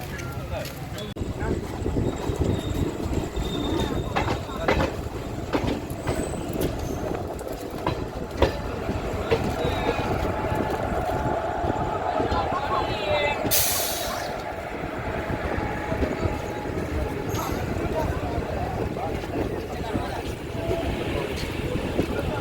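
Teesta Torsa express train rolling into Khagraghat Road station, a steady loud rumble of wheels on rails with rhythmic clatter throughout, and a brief hissing burst partway through.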